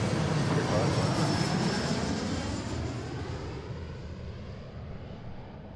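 An Alaska Airlines Embraer 175 jet lands on runway 34 left at Seattle (SEA): a loud, steady broadband engine roar that slowly fades and thins over several seconds.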